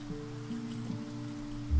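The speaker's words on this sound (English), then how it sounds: "Well, looks like it is raining" Rainfall in the survival game Niche: A Genetics Survival Game is a soft, steady patter, quiet and continuous beneath sustained tonal game music.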